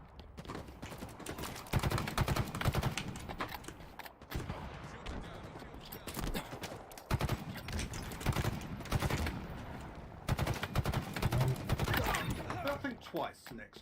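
Halo gunfire rattles in repeated bursts of shots separated by short pauses, moderately loud, with voices talking over parts of it.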